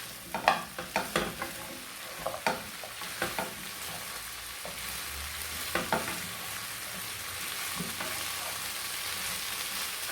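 Vegetables being sautéed in a pan give a steady soft sizzle, broken in the first half by a run of sharp utensil scrapes and clacks, with a couple more strokes later and no talking.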